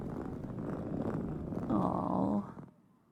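Soft, steady purring of cats in the cosy game Cat Isle, a low rumbling hum that swells slightly near the end before fading out, with no talking over it.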